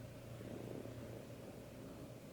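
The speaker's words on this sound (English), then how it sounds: "he's purring up a storm" A cat purring right beside the listener, a soft, steady low rumble that carries on evenly from start to finish with no talking over it.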